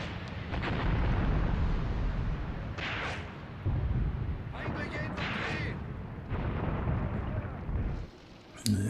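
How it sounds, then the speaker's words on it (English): Artillery shells burst in the game Graviteam Tactics: Mius Front, landing among a heavy weapons company; deep rumbling explosions roll on continuously, with sharper blasts near three, five and eight seconds, and a voice talks over them. "this inaccurate fire here is landing right in amongst my heavy weapons company"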